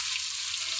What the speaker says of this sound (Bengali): এবার আমি আদা রসুন পেস্টটা দিয়ে দেবো।